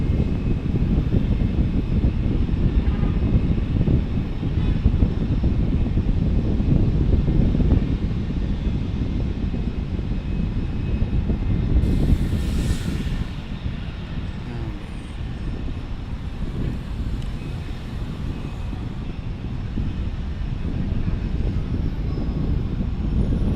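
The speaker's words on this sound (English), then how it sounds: "A321 is up next to depart" Airbus A321 jet at Fort Lauderdale International Airport on its takeoff roll, a loud continuous engine roar that swells and then slowly eases, steady throughout without talk.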